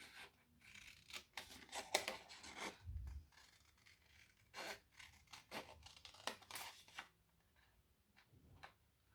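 Scissors cut through fabric for a bow tie, giving soft, faint snipping and rasping strokes in quick irregular bursts, close by, with no voices.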